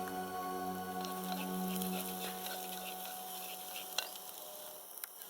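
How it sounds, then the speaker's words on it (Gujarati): Chopped ginger, green chillies, garlic-chilli paste and turmeric sizzle in a little hot oil for a Gujarati tempering, a steady close frying hiss with a few light stirring clicks. "વઘાર કરી લઈએ."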